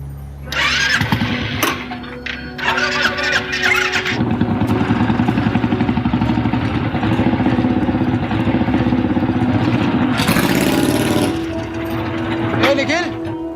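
A new motorcycle engine cranks and catches, then settles into a loud, steady idle with a throaty mid-range rumble, interrupted near the end by a brief revving surge, while voices talk over it.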